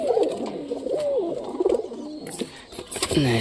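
A satin pigeon coos in close, repeated throaty rolls, with a few brief rustles and higher clicks near the end.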